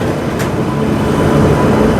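Train rolling past close by, a loud continuous rumble and rattle of wagons with no voices.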